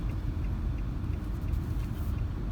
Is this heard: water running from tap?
no